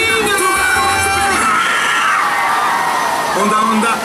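Children scream and shout in a dense, loud crowd at a resort wave pool, with high overlapping yells that are continuous throughout.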